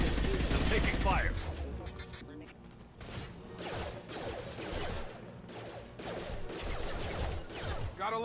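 Gunfire from the video game Mass Effect 2: sharp, loud bursts of shots and impacts, densest at the start and recurring through the stretch, mixed with game effects and a voice speaking over the action.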